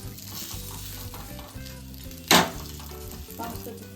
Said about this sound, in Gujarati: એમાં આપણે બે સાઈડ શેકવાથી એકદમ ક્રન્ચી એવી ફેંકીની રોટલી બની જશે.